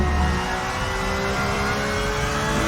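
A car runs flat out at around 200 km/h uphill on the Nürburgring, its engine holding a loud, steady drone from inside the cabin with no clear gear changes over the short stretch, and no voices.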